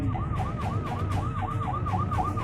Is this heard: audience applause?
no